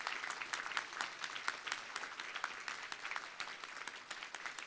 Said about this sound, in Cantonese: 請再次以熱烈掌聲歡迎台上嘉賓。